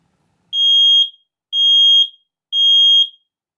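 A smoke detector on self-test gives three loud, piercing beeps, each about half a second long, evenly spaced and close, with silence between them.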